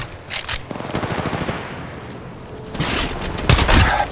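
Automatic weapons fire in the mobile battle royale Apex Legends Mobile: a short burst, then a longer rapid string of shots, a pause, and two more loud bursts near the end.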